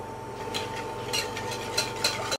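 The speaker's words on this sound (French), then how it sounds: "Au bain-marie, on va mélanger le jus de citron et le sucre." Lemon juice and sugar are stirred in a bowl over a bain-marie, with soft, irregular scraping strokes against the bowl, fairly faint over a steady background hum.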